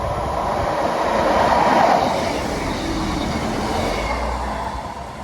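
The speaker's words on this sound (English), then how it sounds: "we've got the Transport for Wales service running from Birmingham International to Holyhead via Shrewsbury and Chester" Transport for Wales passenger train, a class 158 diesel unit, passing close by on a diverted main line, a loud steady roar of wheels and engine that swells and then holds without break, with no talking.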